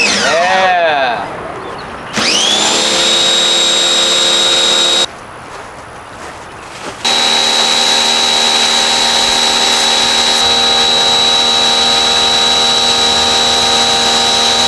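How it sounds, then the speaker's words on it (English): A pressure washer starts with a rising whine, then runs as a loud, steady high-pitched motor hum, briefly dropping out for a couple of seconds before resuming at full, constant strength. "nozzles that I was missing for the pressure washer, so now it's time to turn it on."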